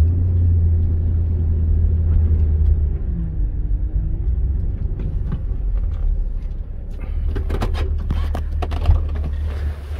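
A car makes a U-turn close to an edge, its engine giving a steady, loud low rumble throughout, with a few faint rattling and crunching sounds toward the end.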